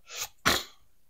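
Two quick sneezes from someone with a cold, close and sharp, the second louder than the first, then quiet.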